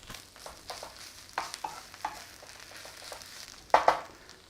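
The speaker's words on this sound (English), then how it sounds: "Nice bit of spinach cooking away" Garlic and spinach sizzle and crackle in a hot pan, a soft steady fry punctuated by several sharp clatters of stirring utensils against the pan, with no talking.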